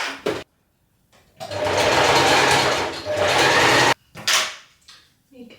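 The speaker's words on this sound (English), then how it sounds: "we're just going to zigzag stitch over the top, forwards and backwards a few times, just to secure it" A sewing machine runs a zigzag stitch forwards and backwards over overlapped elastic on a fabric scrunchie, giving two sustained mechanical whirring bursts with brief clicks and pauses around them, close and fairly loud.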